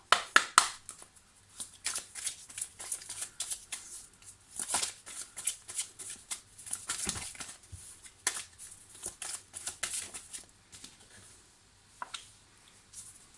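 Tarot cards are shuffled by hand for a reading, with soft, close riffling and slapping bursts in an uneven rhythm, quiet overall and with no talking.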